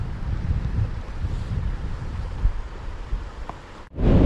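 Strong, gusty wind buffets the microphone on an exposed hillside path climbing towards Windy Gyle in Northumberland, a steady low roar that swells and ebbs before a sharp, louder gust at the end.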